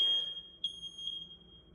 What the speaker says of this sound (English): I guess the smoke detector's going dead on its battery